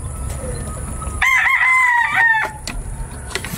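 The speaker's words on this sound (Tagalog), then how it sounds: "itong tandang na to mga kasikin" A rooster crows once, loud and close, a drawn-out call lasting just over a second, with bird clucking and a noisy farm or market setting around it.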